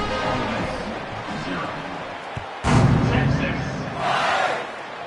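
A home football crowd roars in a packed stadium, a broad wash of cheering that surges suddenly midway after a thud and swells again near the end, with a commentator talking over it.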